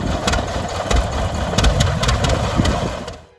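A John Deere Waterloo Boy tractor from 1918 runs steadily at close range, its engine giving a continuous low rumble with faint rhythmic pulsing before fading out at the end.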